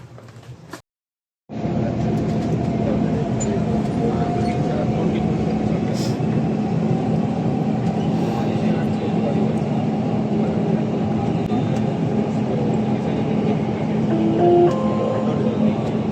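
A Dubai Metro train runs along the line with a continuous low rumble and hum, heard from inside after a brief silence, steady and fairly loud, with faint voices in the carriage.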